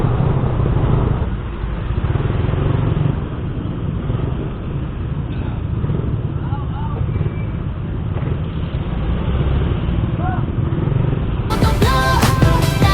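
Motorcycles and cars creep through a long traffic jam where a fallen Meralco utility pole blocks the road, a steady close engine rumble and hum running throughout with no talk.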